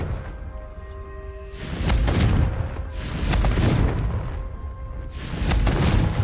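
Confringo spell blasts in Hogwarts Legacy: a series of loud, thudding explosions, roughly four bursts about a second apart, each with a deep booming rumble over steady background game noise.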